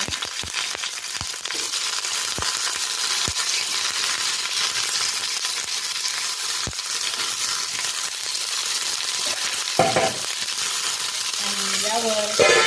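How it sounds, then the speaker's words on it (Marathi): Eggplant roasting in a small amount of oil for bharit gives a continuous close sizzle, with occasional clinks and taps of stirring and a brief voice near the end. "यामध्ये अगदी थोडंसं तेल टाकलेलं आहे आपल्याला भरीत भाजून घ्यायचं आहे"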